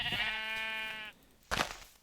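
A Minecraft sheep gives a long wavering bleat, then a second short bleat follows after a brief pause, both clear and close with no talking.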